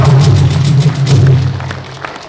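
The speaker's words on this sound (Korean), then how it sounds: "박수하겠습니다" Audience applause after a lecture, a loud burst of dense clapping with a steady low hum underneath, fading toward the end.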